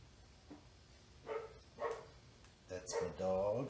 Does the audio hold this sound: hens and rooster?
no